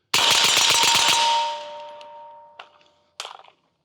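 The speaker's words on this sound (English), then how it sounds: "let's do a quick mag dump on this" A Caracal CAR816 rifle fitted with a suppressor fires a rapid, continuous mag dump, a loud string of about ten close shots in the first second and a half that then decays, followed by two short metallic clanks.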